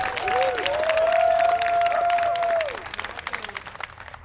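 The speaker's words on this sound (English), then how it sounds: "You should give yourselves a round of applause." An audience applauds at the RobotX 2024 awards ceremony, a loud, dense wash of clapping with a sustained whistle-like tone that thins after a few seconds into scattered, fading claps.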